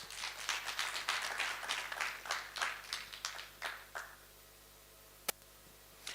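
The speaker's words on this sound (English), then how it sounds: "Kindly give him a warm round of applause." A forum audience claps to welcome a speaker to the stage, a faint patter of applause fading over about four seconds, followed by a lone sharp click in a quiet room.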